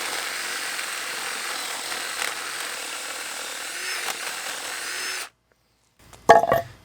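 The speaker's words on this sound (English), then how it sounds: "we're going to go ahead and drill the hole in this 4x4" A power drill bores a hole into a 4x4 wooden post with a steady, loud whine that runs for about five seconds and then cuts off, followed by a short clattering burst.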